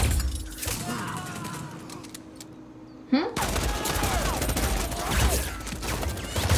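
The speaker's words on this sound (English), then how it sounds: "Oh no, they're getting shot." Gunfire in Just Cause 4, a game shootout, with dense bursts of shots that drop back briefly before a sharp crack and then a heavy sustained barrage, with a voice speaking over parts of it.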